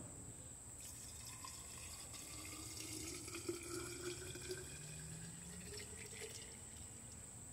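Vinegar pours into a jar packed with onion chives, a steady soft liquid trickle and gurgle running alone and evenly throughout, fairly quiet and close.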